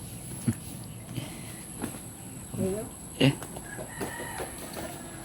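A chicken clucks in short, scattered bursts beside a church outdoors, fairly faint over a steady background hiss, with a few soft thumps.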